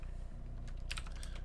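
Quick, light keystrokes on a computer keyboard while working through a Python coding problem, a soft clicking run that grows busier toward the end, heard alone and fairly quiet.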